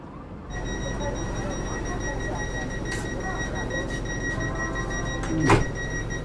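Vande Bharat Sleeper Express pulling out of Azimganj Junction at night, heard from inside the coach as a steady low rumble and hum with faint tonal whines, a brief louder clatter near the end.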